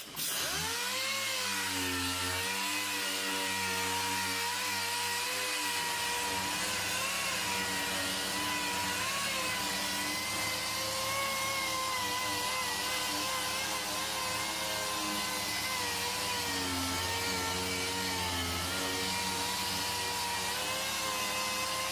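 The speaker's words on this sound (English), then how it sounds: "I'm going to start sanding the body filler. I put 180 on the DA, and that's what I'm going to start using to smooth out the body filler." Dual-action sander fitted with 180-grit paper smoothing body filler on a dented car panel, a steady continuous whirring drone that holds unbroken for the whole stretch, close and loud with no talking over it.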